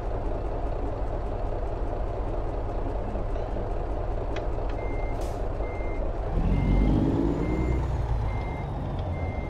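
Freightliner Argosy rated at 1650 HP in American Truck Simulator, engine idling steadily under a regular series of reversing beeps, with the engine swelling louder near the end.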